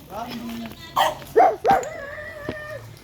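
A dog barks a few times in short bursts, close by, with people talking over and around the barks.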